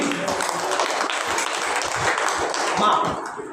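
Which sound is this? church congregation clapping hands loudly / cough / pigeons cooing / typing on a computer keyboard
church congregation clapping hands loudly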